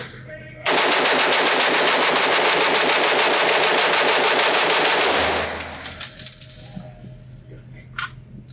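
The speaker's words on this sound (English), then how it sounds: "I'm going to give you a 30-round mag dump as fast as I possibly can" A 30-round magazine emptied as fast as possible from an American Defense UIC carbine: a dense, unbroken burst of rapid shots at close range for about four and a half seconds, then it cuts off and leaves scattered clinks and quiet.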